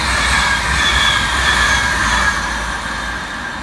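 A Class 390 train on the London Euston to Manchester Piccadilly service passes Heaton Chapel station with a loud, steady rush of wheels and rail noise. Faint squeals ride on top before it eases slightly toward the end.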